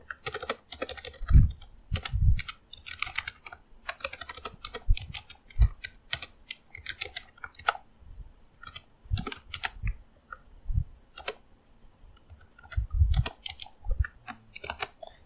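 Python code being typed on a computer keyboard, with brisk, close clicks and clacks in irregular bursts, some heavier thumps from larger keys, and short pauses between runs.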